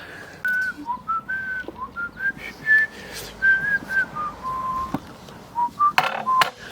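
A person whistles a short melodic tune in bright, wavering notes and brief phrases with small pauses between them, close and clear.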